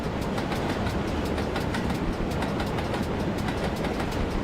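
Simulated GWR King class steam locomotive (Class 6000) braking in Train Simulator, a steady loud rumble of rolling wheels and rail noise with faint rhythmic clicking, continuous throughout with no talk.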